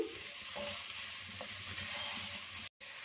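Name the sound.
mixing spices in a pan for samosa potato filling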